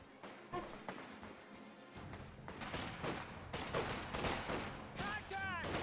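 MG42 machine gun fire in the real-time strategy game Company of Heroes 2: dense rapid bursts and scattered thuds of battlefield gunfire build from moderate to loud and continuous, with faint whistling tones near the end.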